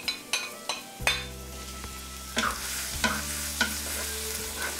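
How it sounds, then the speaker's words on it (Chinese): Minced scallion and ginger crackle in hot oil in a wok while a metal spatula stirs them, several sharp scrapes and clinks landing at irregular intervals over a continuous close sizzle. "加点油，爆香葱姜末"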